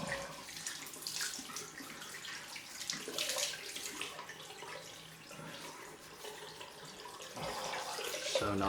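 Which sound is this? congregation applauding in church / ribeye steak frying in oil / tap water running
tap water running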